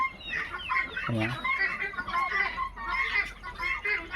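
Several ducks squabble noisily nearby, a busy overlapping mix of harsh quacks and clucking calls that continues throughout.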